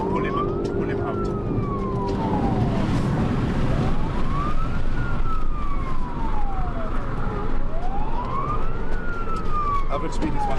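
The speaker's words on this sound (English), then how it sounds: "I'm going to put in my blue lights on and the siren to pull him out." A police car siren wails loudly and close, rising and falling in slow repeated sweeps over a continuous roar of road and engine noise during a high-speed pursuit on a highway.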